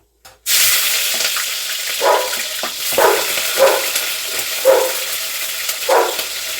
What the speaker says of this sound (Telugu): పోపు అయితే వేస్తున్నానండి. ఫస్ట్ అయితే ఆవాలు వేసుకుంటున్నా, తర్వాత జీలకర్ర వేసుకుంటున్నా.